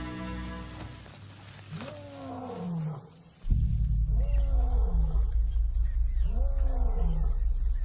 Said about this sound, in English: That roar is their cue to leave.